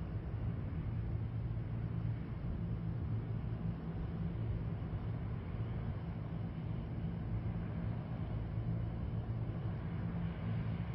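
Shorts Skyvan, an all-metal British aircraft, landing, heard as a continuous low engine drone and rumble at steady level with a muffled, narrow tone throughout.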